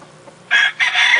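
A grey hen among backyard chickens gives short, loud clucking calls in two bursts, a brief squawk followed by a longer, sustained cackle, close by with no talking.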